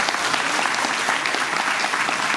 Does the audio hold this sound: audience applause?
yes